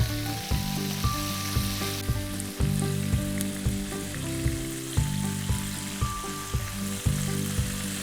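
Chicken drumsticks fry in oil over a low flame, giving a steady close sizzle with soft crackles and a faint repeating tonal hum underneath, continuous throughout with no talking.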